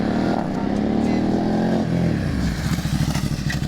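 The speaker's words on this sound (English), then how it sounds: "This is probably the safest place to experience what it's like braking on sand with ABS." Ducati motorcycle braking hard on sand with ABS at a riding academy, a loud engine note dropping away into rapid pulsing judders and gritty scraping as the anti-lock system cycles, close up.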